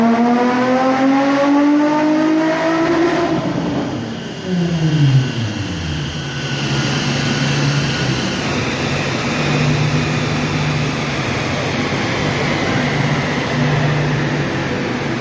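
A Stewart Z car on a dyno, engine revving loud and close, pitch sweeping up through the gears, then dropping off and settling into a steady high drone in a noisy workshop.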